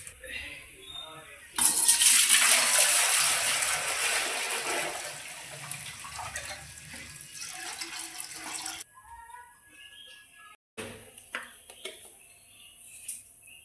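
Water is poured into a cooking pot set on a gas flame to boil rice for chicken biryani, making a strong splashing rush that runs for about seven seconds and then thins to trickles and light knocks.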